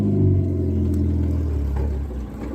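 An old wagon's engine drones loudly and steadily while driving, heard from inside the car. It is slightly misfiring, and the low rumble sags a little near the end. Nobody speaks.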